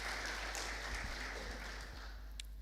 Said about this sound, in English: congratulations to yourselves and clap for yourselves